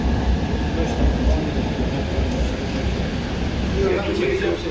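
Steady rumble of the JFK AirTrain in motion between Terminal 8 and Jamaica Station, with a continuous low roar and faint rattling, and a few voices murmuring in the background.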